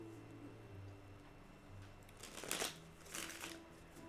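Tarot cards are shuffled close by, two quick riffling bursts of papery flutter following a low background hum, with no talk.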